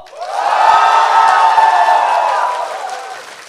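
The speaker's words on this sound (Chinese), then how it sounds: "觉得水玉是我们的本场 talking 的请欢呼。" A live audience at a programmers' comedy talk show erupts into loud cheering, whoops and clapping that swell quickly, hold for a couple of seconds, then gradually die away.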